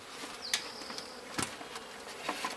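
Honeybees at a small hive in an apiary hum in a continuous close buzz, with individual bees flying past the microphone and brief knocks and rustles of hive frames.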